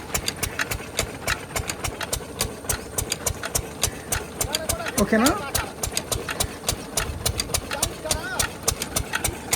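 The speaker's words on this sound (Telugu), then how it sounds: "ఆ కుంటలో నుంచి మోటార్ లాగుతుంది." A motor pumps water from a farm pond into a tanker on a mango farm, giving a steady, close engine hum with a regular pulsing beat, while someone talks over it.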